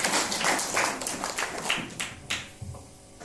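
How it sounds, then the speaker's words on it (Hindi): Church audience clapping for the pastor, a moderate round of hand claps that thins out and fades toward the end. "तो इनके लिए जोरदार ताली होनी चाहिए।"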